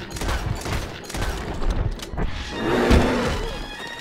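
Rapid bursts of gunfire aimed at a bear in the Red Dead Redemption 2 video game, loud and close, with repeated sharp shots and game ambience across the stretch.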